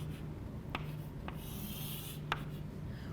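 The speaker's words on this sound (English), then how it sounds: "Draw this straight line." A marker or pen draws a straight line on a board during a maths lesson, a steady close scratching stroke with a few sharp taps, heard alone.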